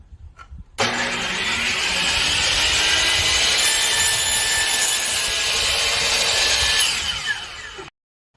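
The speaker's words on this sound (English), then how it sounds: "we ended up getting this miter saw, and here it is" A DeWalt miter saw spins up with a sharp start and cuts through wood in one loud, continuous whining rasp lasting about seven seconds. The sound is close and ends abruptly in silence.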